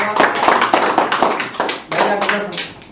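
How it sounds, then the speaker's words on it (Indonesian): An audience in a classroom presentation session claps in a dense burst of applause lasting a few seconds, close and loud, with a brief dip before a second flurry. "tepuk tangan dulu."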